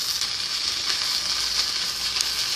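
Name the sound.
butter sizzling in a pan for shrimp fried rice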